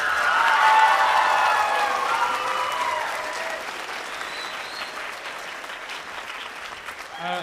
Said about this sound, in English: Can we give Renee Douglas a round of applause?